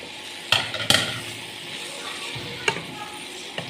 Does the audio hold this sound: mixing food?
yes